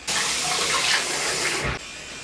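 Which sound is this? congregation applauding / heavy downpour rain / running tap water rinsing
running tap water rinsing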